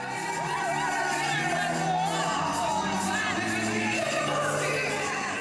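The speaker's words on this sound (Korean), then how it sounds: "갑자기 커진 군 장병들의 함성 소리" A large crowd of soldiers cheers and shouts at a winter concert in Inje, a continuous roar of excited voices and high whoops sustained throughout, loud and dense with no pauses.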